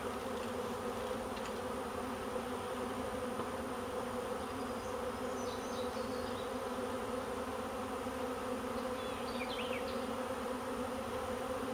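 A honeybee swarm drones in a steady, dense buzz throughout, close and continuous, with no talk, while bees are knocked into a scoop catcher about 30 feet up.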